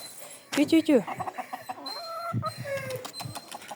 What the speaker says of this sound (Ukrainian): Оця курочка бородата.